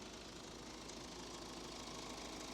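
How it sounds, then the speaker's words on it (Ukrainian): A Hyundai Santa Fe 2.2 CRDi diesel engine idling under an open hood, a steady, even rumble with a faint diesel clatter, continuous and close for the whole stretch, with no talk. "Мотор працює чітко, рівненько"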